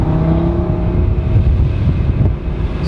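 An Audi car engine holds a steady, loud drone with a slight rise in revs while the car slides through a curve, wind rushing over the microphone throughout.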